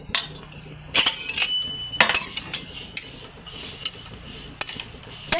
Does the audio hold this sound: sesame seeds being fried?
yes